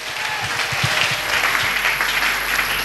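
Congregation applauding during a church service, a steady wash of clapping hands filling the space with no voices on top.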